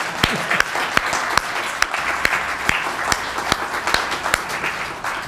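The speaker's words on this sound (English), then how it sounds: "can we clap for all of them, please?" A debate audience at a 2012 California 18th Congressional District candidates' forum applauds, with steady crowd clapping and distinct individual claps throughout and no talking.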